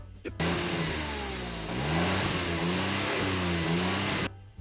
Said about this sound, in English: we have a remote here for the variable exhaust sound or exhaust volume.